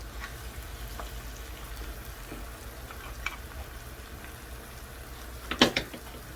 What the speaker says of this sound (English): Now the leeks and the onions are sauteed and beautiful, golden brown.